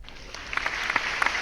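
Scattered applause for a graduating class, heard on a Mother's Day community livestream. A few light, faint claps sound briefly over a steady background hiss.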